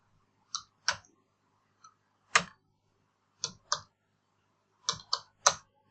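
Sparse computer keyboard keystrokes tap out a registration number in irregular, close single clicks and short pairs, with quiet gaps between presses and no talking.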